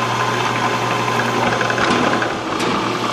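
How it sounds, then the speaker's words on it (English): A CNC machine drives a tap drill for M5 holes into a tough workpiece, a steady close machining drone with a constant low hum running throughout, no talk. "Rolling the tap drill for the M5."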